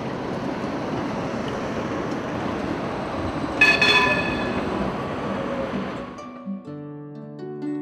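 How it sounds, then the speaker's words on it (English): A Bratislava tram hums steadily along, with a broad rumble of rail noise and a brief bright screech of wheels midway; the sound cuts off near the end, leaving quiet tonal hums. "The trams in Bratislava are a few years old, but hum along and are well used."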